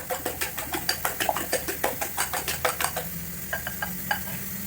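A spatula scrapes and taps rhythmically against a frying pan as eggs are scrambled, a quick run of regular strokes that slows and thins out toward the end, with a soft sizzle underneath.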